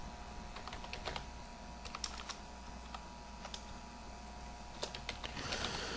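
Quiet, steady typing on a computer keyboard while a password is set for a server user account. Clusters of light key clicks sound over a low background hum, with no talking.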